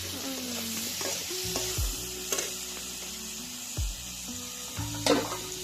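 Prawns with potato and pointed gourd fry in a pan. A spoon stirs and scrapes in several distinct strokes over a steady, moderate sizzle, with no talking.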